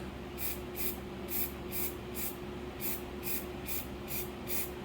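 Short bursts of aerosol spray paint hiss out in a steady rhythm, white paint sprayed onto a tool for spray paint art, about ten quick sprays in a row over a low background hum.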